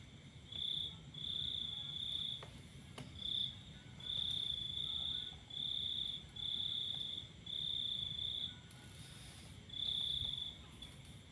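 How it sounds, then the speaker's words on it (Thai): Crickets chirp in steady, evenly spaced high trills, repeating about a dozen times over a quiet hum of night ambience. "ฟังเสียง จิ้งหรีดจิ้งจกตุ๊กแกนะคะ"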